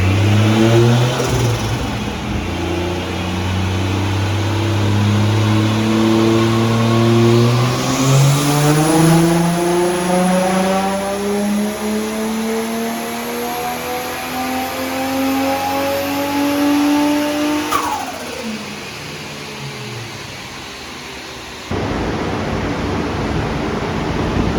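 A Toyota 1JZ-GTE VVTi engine on a dyno revs up through a long loud sweep with a rising turbo whine, peaks, then drops back with a sharp boost release, the roar staying continuous and close throughout.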